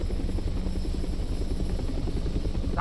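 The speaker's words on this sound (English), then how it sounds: "There's a helicopter." A helicopter in the Resident Evil 3 video game gives a steady, rapid rotor thump with a loud low chop, continuous and close, with no voices over it.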